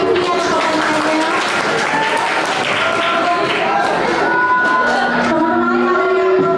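An audience of school students claps steadily in a dense, unbroken wash of applause at a school event, with scattered voices and shouts mixed in.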